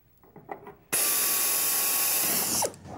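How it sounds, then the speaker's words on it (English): An electric drill bores holes in the rear spar of a Van's RV-8 aircraft, a loud steady high whine starting abruptly, running about two seconds alone, then stopping, after some faint handling noise. "Just keep the drill going every time."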